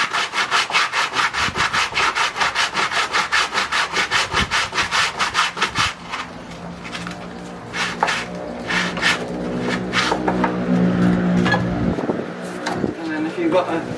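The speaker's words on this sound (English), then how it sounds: "get your sandpaper out" Wood for a pergola cross beam beside a koi pond is sanded by hand with sandpaper in fast, regular rasping strokes for several seconds, then slower, rougher rubbing and scraping, loud and close.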